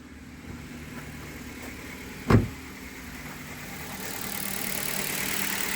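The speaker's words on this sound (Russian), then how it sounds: "Машина завелась." A Hyundai Solaris engine idles steadily after starting, a quiet, low, continuous hum with one brief sharp click midway and a slight rise in level toward the end.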